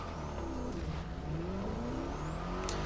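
BMW M5 in The Crew Motorfest accelerating hard, its engine note rising steadily in pitch through a gear change over a few seconds, loud and close with a faint whir and no talk.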